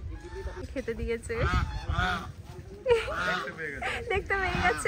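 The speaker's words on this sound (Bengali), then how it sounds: "রাজহাঁসও আছে।" Geese honk repeatedly near a large pond, their nasal calls rising in bursts over a steady outdoor background, with people talking throughout.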